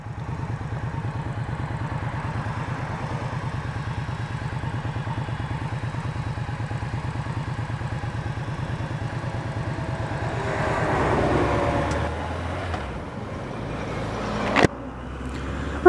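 An Indian Scout 883 motorcycle engine runs steadily during a test ride, a continuous loud droning rumble that holds even for most of the stretch, then swells and shifts near the end with a couple of sharp knocks.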